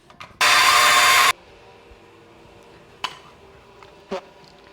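A power tool cuts wood in a single loud burst of about a second of harsh whining buzz, followed by quieter scattered knocks and clicks nearby.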